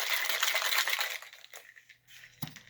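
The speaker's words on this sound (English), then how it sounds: "We're just going to give this a little shake" Ice rattles hard inside a capped cocktail shaker mixing a margarita, a busy clattering burst that fades out in about two seconds, ending in a single dull knock.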